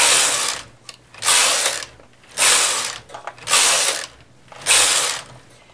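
The carriage of a knitting machine is pushed back and forth across the needle bed for five rows, giving five loud, close ratcheting sweeps of about half a second to a second each, separated by short pauses, with no voices.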